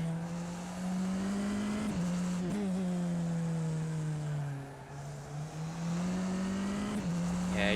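A Tatuus single-seater race car in the racing sim rFactor 2 is driven flat out. Its engine drones steadily at high revs, with brief pitch dips and recoveries as it works through corners.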